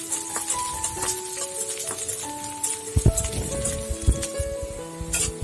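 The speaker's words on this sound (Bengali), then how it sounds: "একটা পেঁয়াজ কুচি করে কেটে দিয়ে দিলাম আর এটাকে আরো 2-3 মিনিট ভেজে নিব" Chopped onion frying in oil with garlic and cumin, a steady crackling sizzle with sharper pops and spatters building toward the end, close and fairly loud, no talking.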